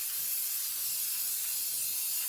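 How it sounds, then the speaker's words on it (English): A steady, bright hiss from a spray bottle continues without a break for a couple of seconds, close and fairly loud. "just spray each one"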